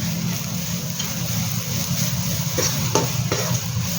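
Grated coconut being stirred into fried green chillies and onion in a pan for a Sri Lankan kurinjan greens dish, a low steady sizzle with a few soft scraping stirs near the end, no talking.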